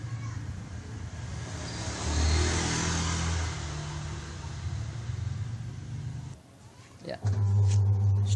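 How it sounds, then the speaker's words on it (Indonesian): A Samsung WA80U3 washing machine's spin motor runs with a steady low hum and broadband whir, dips briefly near the end, then resumes louder with a strong low drone; no talk over it. "sudah mulai terdengar suara motor spinnya bekerja"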